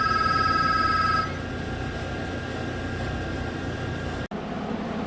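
A telephone rings with a steady electronic trill for about a second, then stops, leaving a constant background hum with a brief dropout near the end.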